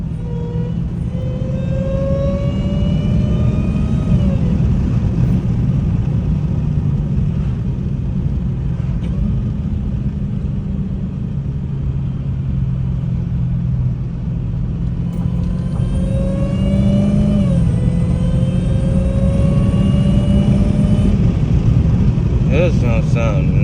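Supercharger whine from a Dodge Hellcat SRT rises and falls as the engine revs twice. A climbing high-pitched whine sits over a loud, deep engine rumble, with wind buffeting the microphone throughout.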